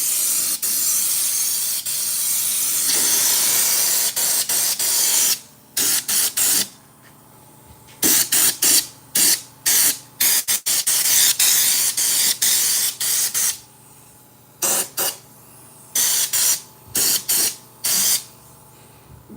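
Bursts of aerosol-like spray hiss loudly as WoolWax undercoating goes onto the underside of a 1963 Chevrolet Impala, first in a long continuous stream, then in short repeated blasts separated by brief pauses.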